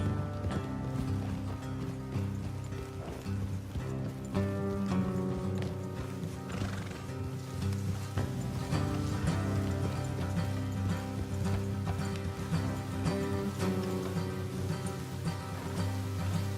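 Clip-clop of horse hooves at a steady walking rhythm in the video game Red Dead Redemption 2, with a horse snorting and whinnying over a constant low rumble.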